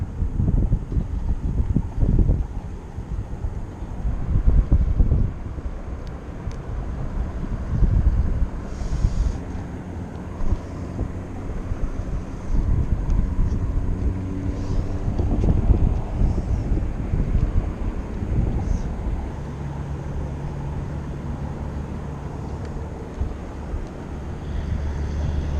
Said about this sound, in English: The wind just started picking up